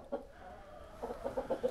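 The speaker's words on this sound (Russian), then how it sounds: "Квохчите-то?" Farm chickens cluck close by, one short cluck followed after a pause by a quick run of five or six rhythmic clucks, fairly soft with no talking.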